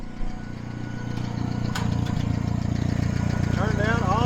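An International 424 tractor engine idles steadily at close range, a continuous low rumble that runs through the whole stretch, with faint background sounds over the top near the end.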